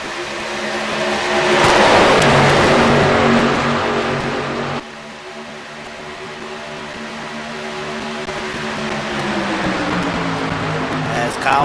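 Stock cars race in the Daytona 500, a loud, sustained engine roar with rising and falling pitch as the pack flies past, one surge dropping off sharply before the drone builds again.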